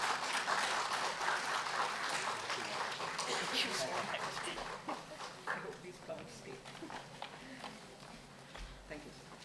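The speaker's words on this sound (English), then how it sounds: "A round of applause for all the panelist members." Applause for panel members at a food safety conclave panel discussion, a dense burst of clapping that thins out into scattered claps as talking takes over.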